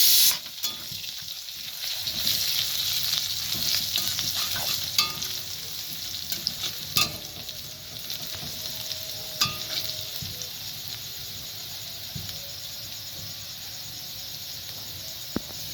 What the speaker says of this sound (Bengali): পেঁয়াজ কুচিগুলা হালকা ব্রাউন করে নিব।